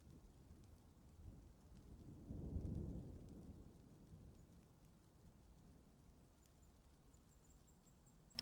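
Rain and a low thunder rumble in the game Dwarf Fortress. A faint steady patter runs throughout, and a soft, distant roll of thunder swells and fades in the middle.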